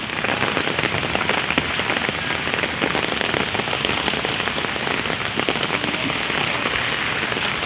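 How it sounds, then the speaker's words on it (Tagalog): Loud, close heavy rain falls without pause, a dense rushing patter of drops striking the ground and nearby objects. "lakas ng ulan."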